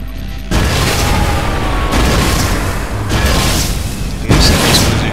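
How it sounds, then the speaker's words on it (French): Grenade blasts in the Watch Dogs video game, several deep booming explosions rolling into one another at close range, loud and dense, with a sudden burst at the start. "C'est qui envoie une grenade là?"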